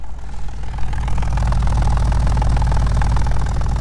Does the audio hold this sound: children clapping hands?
no